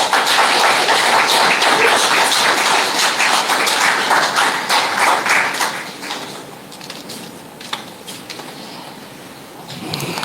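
Audience applause at a St. Mary's Academy reunion evening, a dense crowd clapping loudly for several seconds before thinning to a few scattered claps.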